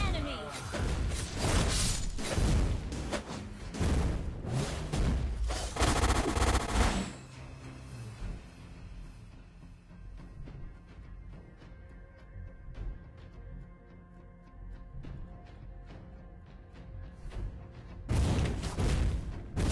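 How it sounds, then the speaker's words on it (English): Loud bursts of combat effects as an inhibitor turret is attacked in League of Legends, heavy clashing impacts at the start and end with a quieter busy stretch between. "Our inhibitor turret is under attack."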